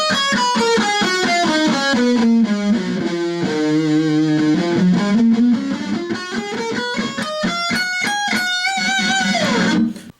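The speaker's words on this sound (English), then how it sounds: "E Aeolian minor scale is going to sound like this." Overdriven electric guitar plays an E Aeolian minor scale, with distinct picked notes climbing up and then back down in a steady run that ends abruptly. It is loud and close, with no talking.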